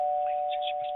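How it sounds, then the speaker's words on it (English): A small doorbell rings once as a steady, sustained electronic tone running through the whole second, with faint voices murmuring in the background. "I'm going to wait until she rings our little doorbell"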